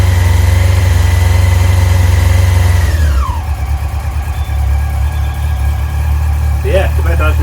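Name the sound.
Yamaha R6 motorcycle engine idling warm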